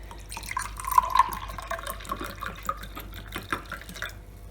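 Grape vinegar poured into water while making beetroot pickles, heard as light trickling and dripping splashes, close and moderately loud.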